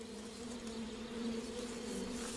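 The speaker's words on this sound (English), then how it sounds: "Rare Wuzhan bees." Rare Wuzhan bees buzz steadily in the hills, a close continuous drone with a strong low hum and little change in loudness.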